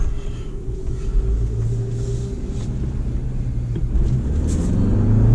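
A 2023 Jeep Wrangler 4xe Sahara pulls away under heavy throttle, a deep continuous rumble heard from inside the cabin that swells steadily louder toward the end.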